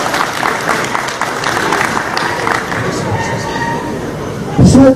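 An audience claps steadily at an exhibition opening, a dense wash of applause filling the room, with a heavy thump near the end.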